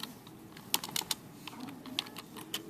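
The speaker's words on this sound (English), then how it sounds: "Type vary and then press the space bar." Keys clatter in short irregular bursts on a computer keyboard, with a few sharper, louder strokes that fit space bar presses, close and clear against a quiet room, no voices.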